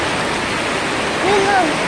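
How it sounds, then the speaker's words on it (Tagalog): Heavy typhoon rain pours in a dense, steady roar of hiss with no letup, and a faint voice rises briefly near the end. "Kaso nga, sobrang lakas ng ulan."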